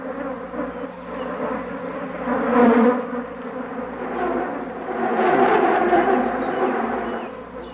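Flies buzz around a mushroom, feeding on its sticky spore liquid; the droning hum swells and fades as the insects circle close by, with no talk.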